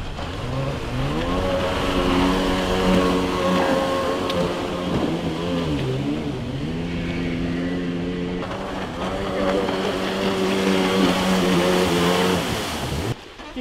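A cheap secondhand jet ski engine runs steadily on the water, with a loud, close motor drone that rises and dips as it is revved but struggles to reach full rpm, over splashing water.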